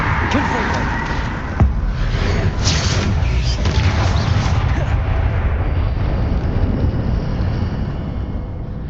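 Spell blasts, including Confringo, burst in Hogwarts Legacy as a loud rumbling barrage with a sharp crack early on and dense booming throughout, layered under speech.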